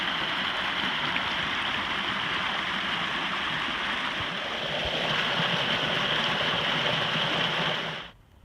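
Spring water pours steadily from a spring head into the Suwannee River, a continuous close rushing wash that holds evenly for about eight seconds, then cuts off abruptly near the end.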